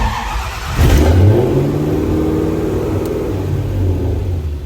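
A BMW E30 M3 with a custom engine harness cranks and fires into life close by, settling into a loud, steady idle with a low rumble and mid-pitched engine hum.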